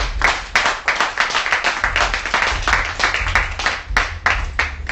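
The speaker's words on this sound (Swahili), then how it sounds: "Hebu tupigie Bwana makofi makubwa" Church congregation at a prayer meeting clapping together for God, a loud burst of dense rhythmic handclaps pulsing steadily throughout, close and without talk.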